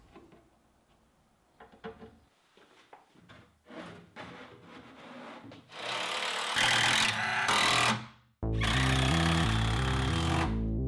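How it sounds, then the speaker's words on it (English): Bursts of loud power drilling chew through wood inside a closet, starting and stopping several times, with a sustained grinding run near the end; close and harsh. "I went back to the closet to drill the final row"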